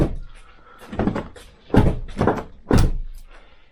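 A Volkswagen Golf car door shuts with a solid thunk, followed by a couple more heavy latching thuds, close by with no talking, while a replaced door lock is tested.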